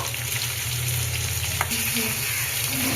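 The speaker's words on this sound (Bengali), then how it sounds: "তারপরে এবার বেগুনটাকে ভাজা হবে" Eggplant fries in a pan with a dense, constant close sizzle and bubbling crackle, a low steady hum underneath, with no talking.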